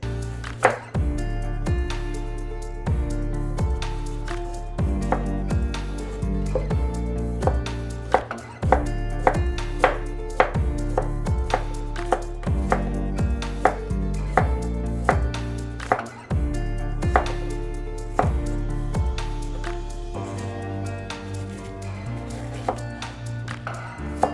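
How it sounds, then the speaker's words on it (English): Knife chopping cucumber into half moons on a cutting board for a Japanese miso cucumber salad, a steady run of close, crisp, repeated cuts with brief pauses, heard alone without talk. "Just slice your cucumber down the middle and cut them up."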